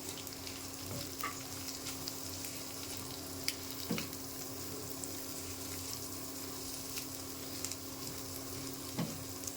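Cauliflower, cabbage, Malabar spinach leaves and carrot sizzle steadily in a pan alongside fried egg for pasta, with occasional stirring scrapes and clinks, close and fairly quiet with no talk.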